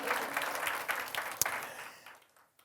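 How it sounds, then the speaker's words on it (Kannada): A church congregation claps together in a quick, irregular burst of applause that peaks sharply midway and then thins out and fades, fairly faint overall. "ಚಪ್ಪಾಳೆ ತಟ್ಟೋಣ"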